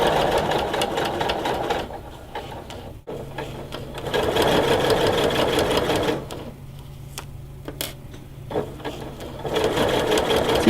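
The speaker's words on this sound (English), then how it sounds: "So just slowly sew and remove the pins as you go." Sewing machine stitching through pinned fabric, running in steady bursts with brief pauses between runs, close and fairly loud with no talking.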